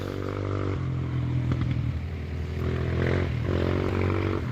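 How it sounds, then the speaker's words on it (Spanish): A motorcycle passes close by on a rural dirt road, its engine a steady loud drone with shifting harmonics that swells and fades over a few seconds, no talk over it. "¡Dios, el de la moto!"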